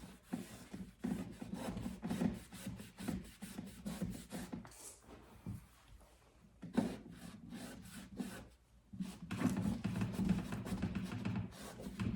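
Close, steady rhythmic rubbing of a cloth buffing wax into a wooden medicine cabinet, brisk back-and-forth strokes with short pauses, no voices.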